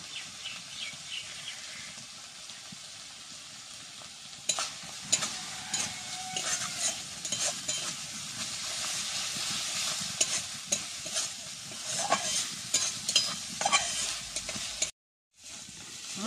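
Ground spices, including chilli powder and Kashmiri chilli powder, are stir-fried together in a pan, with a rising sizzle and frequent scraping strokes of a spatula, briefly cutting out near the end; no voices.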